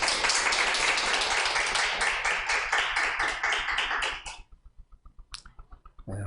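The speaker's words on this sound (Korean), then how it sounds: "우리 하나님께 영광의 박수 올려드리겠습니다." A church congregation gives a sustained round of dense clapping that stops sharply. A few scattered late claps and taps follow in the quieter room.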